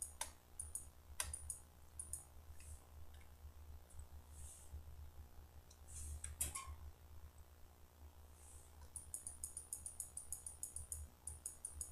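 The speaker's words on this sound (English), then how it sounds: "Sorry if you can hear the clicking" Soft, quick computer mouse clicks in scattered bursts during Minecraft play, faint and close, with a steady low hum underneath.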